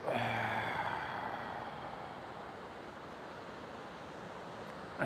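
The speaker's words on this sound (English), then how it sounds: "Empty out, exhale." A long, deep exhale during an oceanfront yoga session, a breathy rush that starts strong and slowly tapers off over several seconds, with a soft wash of surf-like ambience behind it.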